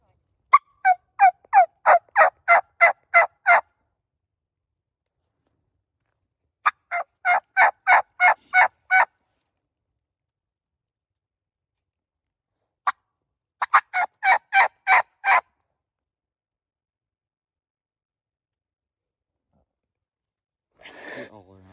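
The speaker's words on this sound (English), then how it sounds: "We got three other turkeys going." Wild turkeys gobble in the field during a hunt on a ridge, loud repeated rattling gobble bursts in three bouts with gaps of quiet between, a short single call in one gap and a faint rustle at the end.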